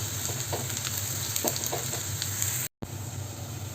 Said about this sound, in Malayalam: ഒരു ഗോൾഡൻ നിറമാവുന്നത് വരെ നമുക്ക് ഈ ഉള്ളിയൊന്ന് മൂപ്പിച്ചെടുക്കാം